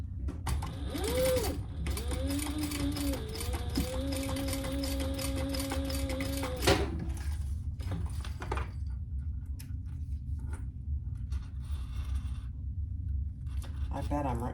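A sewing machine runs in steady bursts while top stitching a tag, its close, fast mechanical whir continuing under low background noise, with brief pauses between runs.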